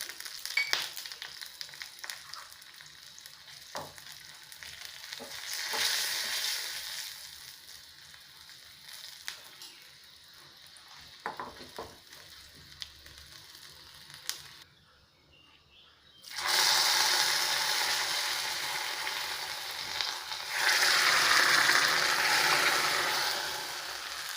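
Mustard seeds, asafoetida and byadagi chillies sizzle in hot oil for bendekayi gojju, a soft crackle that swells into a loud steady hiss near the end, with no talking.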